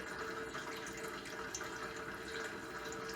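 Water runs steadily through a Berkey countertop water filter, a constant close trickle and splash into the container with no speech over it.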